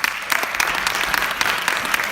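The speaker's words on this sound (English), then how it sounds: "can we give a round of applause to all of our trainers?" A crowd claps for trainers at the close of a training event, steady dense applause filling the room without pause, a few brief voices faintly underneath.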